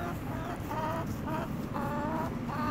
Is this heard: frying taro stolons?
no